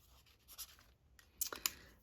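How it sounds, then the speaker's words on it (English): A pen scratches out a short handwritten note in a December Daily journal, quiet close scribbling strokes in brief bursts with small pauses between. "So I think I'll just write that here."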